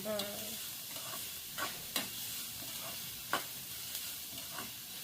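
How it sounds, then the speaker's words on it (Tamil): Onions, green chilies and fennel seeds fry in a pan with a steady, close sizzle, broken by a few sharp stirring scrapes and taps of a spoon, and no voices. "நல்லா வெங்காயம் பச்சை மிளகாய் பெருஞ்சீரகம் எல்லாம் படிவாக பொழிஞ்சு வரட்டுமே."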